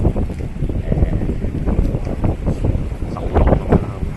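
Strong typhoon wind buffets a microphone outdoors in Hong Kong, loud gusty roaring bursts rising and falling throughout.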